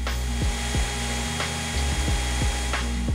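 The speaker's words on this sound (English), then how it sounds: "Drilling through steel this thick takes some effort." A drill bores steadily through thick steel in a home metalwork corner, giving a loud continuous motor whine with regular grinding pulses and a brief lower-pitched dip midway.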